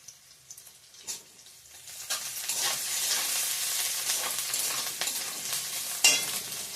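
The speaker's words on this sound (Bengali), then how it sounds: "থেতো করা আদাটা দিয়ে দিলাম" Crushed ginger hits hot oil with onion and a five-spice tempering, building into a steady close sizzle with stirring, a sharp clatter near the end, no voices.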